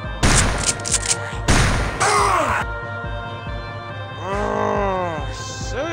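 Shotgun blasts in a video game, two loud booming shots in quick succession near the start followed by a rumbling echo and a lower, drawn-out groaning game sound.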